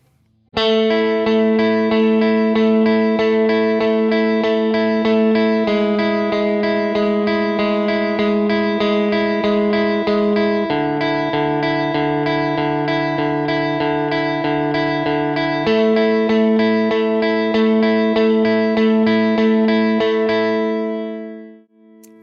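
A simple, clean electric guitar riff from a song repeats a short pattern of sustained notes with a chorus-like shimmer, steady and alone for about twenty seconds before fading out.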